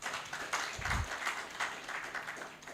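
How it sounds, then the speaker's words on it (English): An audience at an airline route launch event applauds, a fairly faint, rhythmic patter of clapping from a crowd in a hall, with a soft low thump partway through. "I think we deserve a round of applause."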